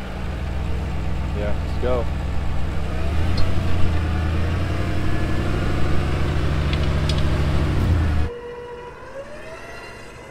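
A vehicle engine revs under light throttle while stuck in a sand chute during a rescue, its front wheels dragging; the loud low drone runs beneath a shouted voice, then drops off abruptly near the end.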